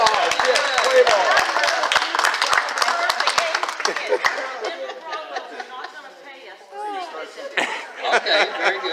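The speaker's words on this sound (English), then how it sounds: "A round of applause." A meeting room breaks into a dense round of hand clapping for several seconds. It thins out into chatter, laughter and scattered voices as people settle down.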